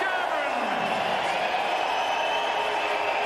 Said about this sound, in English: Biggest cheer of the night.